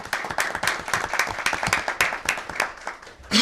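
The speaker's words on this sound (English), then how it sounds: "let's give her a round of applause" Audience applause at a Fort Mill town council meeting, a room of people clapping steadily with dense overlapping claps for a few seconds, moderately loud and alone, swelling briefly again at the end.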